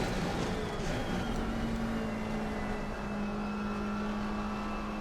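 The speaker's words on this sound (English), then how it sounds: "Faster car coming up behind you." A GT3 race car in Assetto Corsa Competizione at Silverstone holds a steady, droning engine note at high revs, loud and continuous, with another car's engine tone blending in behind, no talk.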